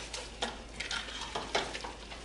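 A spatula scraping and stirring venison chili with beer in a pot, working stuck bits off the bottom, with soft sizzling and several distinct scrapes against the pot.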